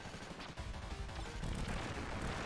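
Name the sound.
gunfire shooting in Contra: Hard Corps video game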